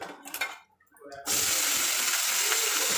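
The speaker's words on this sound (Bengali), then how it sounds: "ভাতগুলো ধুয়ে যাবে" Tap water running while cooked rice is washed in a kitchen sink: brief clinks and handling noises, a short pause, then a steady loud gush of flowing water that continues to the end.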